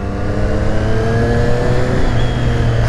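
Triumph 765 Street Triple RS motorcycle from 2020 with its stock exhaust, the engine holding a loud, steady high-revving roar close by, a dense unbroken drone with slight pitch rises and no talking.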